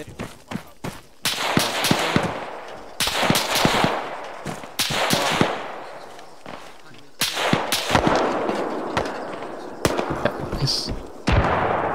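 Gunfire in Arma 3 during an infantry room-clearing operation: loud, close bursts of rapid shots and single cracks come in repeated volleys, with voices talking between them.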